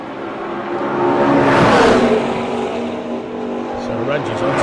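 Lamborghini Huracan GT3 Evo and other GT3 race cars roar past on the beach straight, their engine noise swelling to a loud peak and then fading. A commentator talks over the passing cars.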